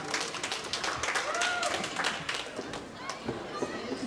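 Round of applause from the audience at the opening of a games event, a fairly faint, scattered patter of clapping with some crowd chatter mixed in.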